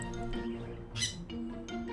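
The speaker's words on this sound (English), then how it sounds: "when Chanan found a bright orange bird on the roof of their Brooklyn apartment" A bright orange pet bird found on a Brooklyn apartment roof squawks in short, close calls, with one louder harsh burst near the middle over a steady indoor background.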